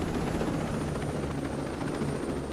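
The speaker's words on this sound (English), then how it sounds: "So I'll land the chopper" A helicopter in the video game Ghost Recon Breakpoint comes in to land, its steady, loud rotor and engine drone filling the whole stretch with no talk over it.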